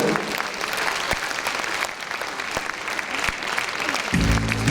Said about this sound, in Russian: Под ваши теплые аплодисменты Диана Пистаева